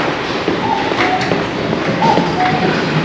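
A metro train pulls into a station in Tokyo, a continuous rumble of wheels on rail with faint clicks and a high electric whine, heard from the platform amid station ambience.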